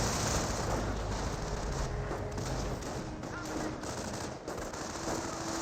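Dense, continuous gunfire on infantry in Company of Heroes, a loud, sustained rattle of overlapping shots with no clear pauses.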